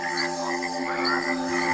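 A cane toad calls with a steady, buzzing croak that is close and continuous for the whole short moment, with no other voices.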